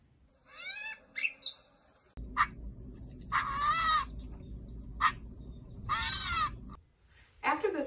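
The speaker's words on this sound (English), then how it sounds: "is a gray catbird, and it's in the mockingbird family." A gray catbird, a member of the mockingbird family, gives several nasal, mewing cat-like calls and short chirps in separate bursts, fairly close, with background hum between some calls and no talk.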